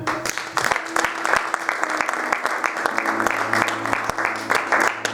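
A church congregation claps for the Lord during a French-language sermon, loud and rhythmic with sharp, even beats continuing throughout, a steady tone humming beneath.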